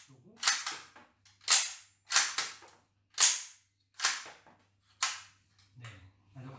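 Charging handle and bolt of a CAW MP18 Bergmann dummy submachine gun being pulled back and released, sharp metallic clacks repeated about six times at close range, clean and unhurried, with no voices.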